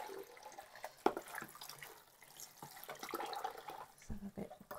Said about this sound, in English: So a bit of cool water.